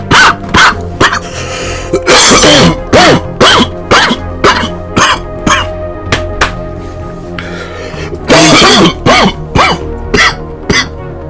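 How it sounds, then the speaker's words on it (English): Repeated harsh coughing and throat clearing, loud and close, in rapid bursts with short gaps between them. "The cough helps a little bit."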